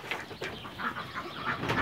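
Racing pigeons in a loft give soft, continuous cooing and rustling, with a few brief louder bursts over low background noise and no talking.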